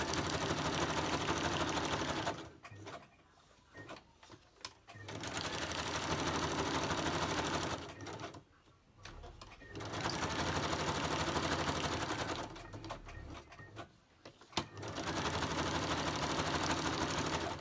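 A sewing machine stitches around fabric for a hat in three long runs, each lasting a few seconds and separated by brief pauses, loud and close with a steady mechanical whir.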